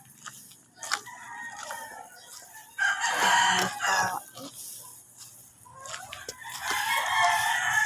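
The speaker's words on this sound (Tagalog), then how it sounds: "Ayan na ang kanyang mga manok." Chickens cluck and a rooster crows on a farm in the early morning, the crows rising in several bursts over scattered clucking, at a moderate distance.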